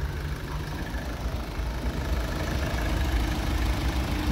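The 1.6-litre engine of an Opel Meriva with automatic transmission idles smoothly and steadily, a low continuous hum and rumble recorded close by with no voices.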